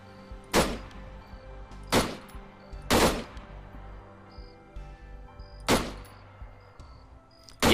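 Zafir 7.62 machine gun in ArmA 3 firing single loud, sharp reports, four shots spaced about a second or more apart with short decaying tails and no talking.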